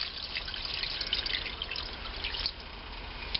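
Tap water pours steadily from a kitchen faucet into a cooking pot for cabbage with smoked bacon, a continuous close hissing splash with no talk.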